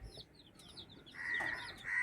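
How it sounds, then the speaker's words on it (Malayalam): Mother hens cluck in a backyard coop at home, giving soft, short clucks and a brief higher call or two, with faint bird chirps in the background and no speech. "അവളും ആണ് നമ്മുടെ വീട്ടിലത്തെ അമ്മക്കോഴികൾ."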